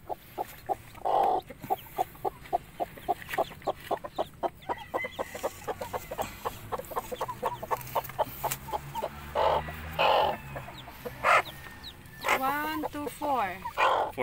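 An angry Shamo gamecock on a farm clucks in rapid, repeated bursts, close and loud, with harsher squawks later; a dog can be heard too and people talk over it.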